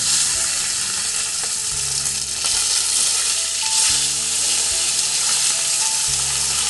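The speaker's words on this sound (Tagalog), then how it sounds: "Prito muna namin to." Bisugo fish frying in a pan, a steady loud sizzle and crackle with faint clinks, no talking.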